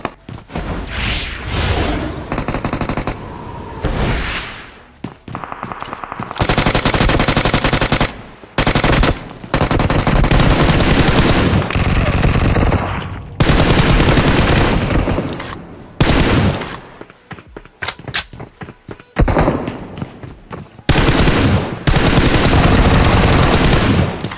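Loud bursts of automatic gunfire from a PUBG Mobile match, rapid volleys broken by short pauses and a few single shots, continuing throughout with no talk.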